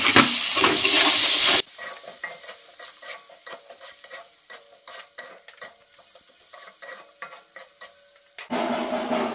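Paste of garlic, ginger, tomato and green chili stir-fried in a pan for chicken curry, with a rhythmic series of close spatula scrapes and knocks over a soft sizzle, framed by louder bursts of hissing noise at the start and end.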